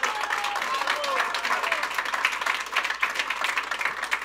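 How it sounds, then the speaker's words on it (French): Audience applause for the finalists at a 2024 inclusion challenge ceremony, a steady dense wash of clapping through the whole stretch, with a few faint voices underneath. "on les ramène sur scène gentiment, et on les applaudit à nouveau"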